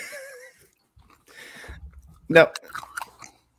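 A crunchy snack of coconut, pumpkin seeds, quinoa and sunflower seeds is bitten and chewed close up, giving a loud crisp crunch followed by a few smaller chews, with brief talk before it.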